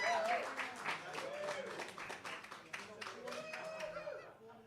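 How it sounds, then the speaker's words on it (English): An audience claps for two people, a modest scattered round of applause at a fairly low level, mixed with voices and some laughter. "Let's give a big round of applause for Paul Santos and Joanne Raposa for doing this."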